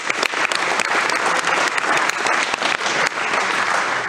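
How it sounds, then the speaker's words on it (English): Sustained applause from an audience fills the space, dense and loud, with steady clapping throughout and a faint murmur of the crowd underneath. "keep clapping it up for him"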